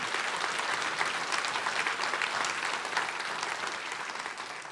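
A seated audience at a rabbi's talk bursts into warm, dense clapping that holds steady and slowly tapers toward the end.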